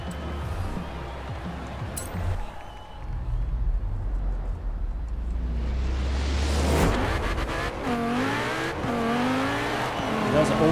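Porsche fitted with rally tires driving in Forza Horizon 4 on a cross-country course: a steady engine drone with rising revs and tire noise, growing busier and louder toward the end, with someone talking over it.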